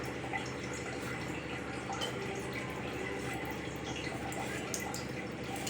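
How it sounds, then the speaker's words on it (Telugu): Water poured into a cooking pot while preparing a mushroom curry, a steady soft trickle and splash running continuously at low level with no talk. "నీళ్ళు పోసి"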